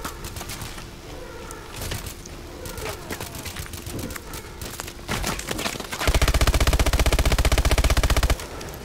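Gunfire in the video game Call of Duty: Advanced Warfare begins as scattered sharp single shots, then becomes a loud, sustained automatic burst lasting a couple of seconds.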